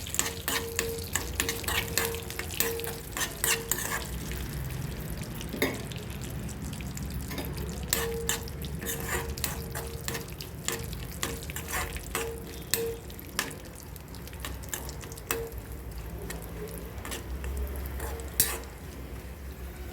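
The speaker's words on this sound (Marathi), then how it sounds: "ड्रायफ्रूट भाजून घेते।" Dry fruits roast in hot ghee over a low flame for vermicelli kheer, giving a soft continuous sizzle broken by frequent scraping and tapping stirs of a spoon against the pan, with no talking.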